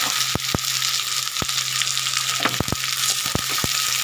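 Lote dried fish frying in oil in a home kitchen pan for an eggplant dish, a loud steady sizzle broken by several sharp clicks and knocks of stirring against the pan, no voices.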